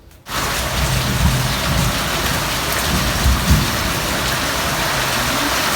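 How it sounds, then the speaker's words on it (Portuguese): Heavy rain from a thunderstorm pours steadily and loudly after a brief quiet start, with a dense hiss of drops and low rumbles of thunder underneath. "Nós estamos na chuva"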